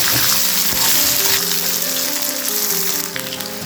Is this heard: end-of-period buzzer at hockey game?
no